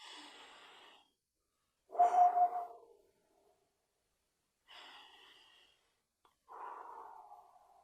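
A person with eyes closed takes a few deep breaths, close and quiet: slow airy inhales and exhales in separate drawn-out gusts with silent pauses between them.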